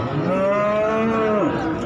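A single cow gives a loud, close, drawn-out moo that falls in pitch at the end, at the Wirosari cattle market in Grobogan, Central Java. The market makes a faint busy murmur behind it.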